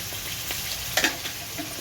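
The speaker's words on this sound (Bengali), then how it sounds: "এই যে এখানে মশলা রান্না চলে হচ্ছে" Spices and green peas fry in a pan with a steady low sizzle, a few soft stirring clinks and one brief louder scrape partway through.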